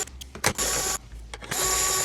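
Screws being backed out of the red plastic body of a Mickey's Toontown bubble blower toy from Disneyland, heard as a close mechanical whirring with brief pauses and short bursts, like a powered screwdriver.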